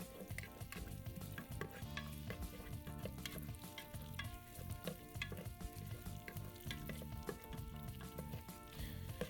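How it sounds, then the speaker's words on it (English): Sausages sizzle and crackle steadily in a hot pan, with occasional scraping and stirring clinks, no voices. "Watch that sizzle."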